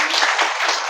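An audience at a live religious gathering claps in a dense, steady patter, loud and continuous for a moment.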